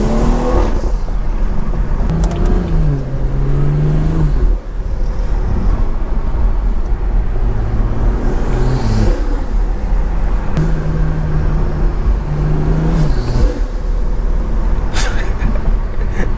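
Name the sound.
tuned BMW 340i engine revving with burbles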